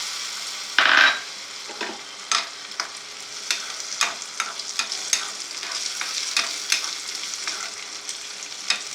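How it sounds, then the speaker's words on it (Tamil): Cashews and raisins frying in ghee for temple-style sakkarai pongal, with a steady soft sizzle broken by repeated sharp scrapes and clinks of a spoon stirring in the pan, close by and with no voices. "இப்போ வந்து நம்ம அடுத்து முந்திரி திராட்சையை வறுத்துக்குருவோம்."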